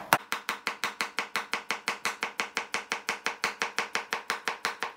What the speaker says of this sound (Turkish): Soğanını da çok ince doğrayacağız.